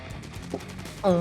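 Rapid automatic gunfire from the mobile shooter game Call of Duty: Mobile rattles in a steady burst, loud and close, with a voice starting up at the very end.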